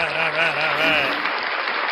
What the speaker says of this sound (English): Another round of applause for Van Balian